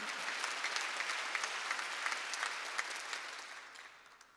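Church congregation clapping during a Korean Wednesday worship service, a steady, dense patter of many hands at moderate distance that gradually fades toward the end.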